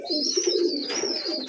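A pigeon tending its growing chick gives a short, soft, close coo lasting under two seconds, alone without other sounds.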